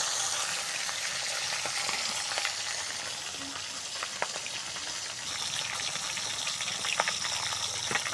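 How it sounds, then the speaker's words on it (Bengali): Fish heads frying in hot oil in a wok, a dense continuous sizzle and crackle with occasional sharp pops, close and loud, no talk. "কড়াইতে তেলটা গরম হয়ে গেছে, আমি একে একে মুড়োগুলো ভেজে নিচ্ছি"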